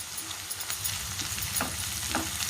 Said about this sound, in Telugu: పచ్చివాసన పోయిందాక వేయించుకోవాలి ఈ అల్లం వెల్లిపాయ పేస్ట్